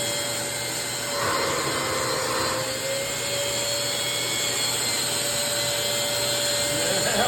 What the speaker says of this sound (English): But the vacuum is really nice.